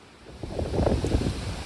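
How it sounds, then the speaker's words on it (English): Wind blows on a stretch of the Appalachian Trail, a steady rushing gust that swells and buffets the microphone for a couple of seconds, with no talking. "The wind is back."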